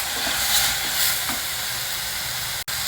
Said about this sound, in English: add 1 ripe red tomato chopped and stir fry that also